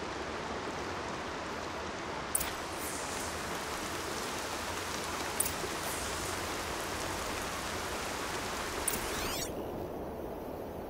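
Steady rain falls in the game Horizon Zero Dawn, an even, hissing wash of drops that goes on for the whole stretch, with a few faint clicks on top.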